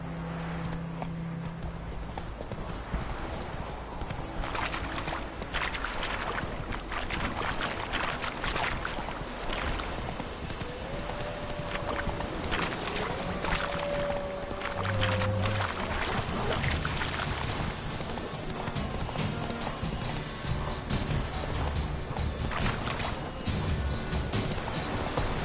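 Horse hooves pound in a rapid galloping clip-clop throughout a long stretch of The Witcher 3 gameplay, steady and close, with faint game ambience and brief music tones underneath.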